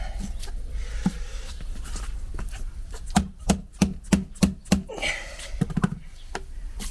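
Cutting a wheel rim protector strip, a run of sharp, evenly spaced cuts in the middle of the clip, each a crisp close snap, with lighter handling noises before and after and no talk.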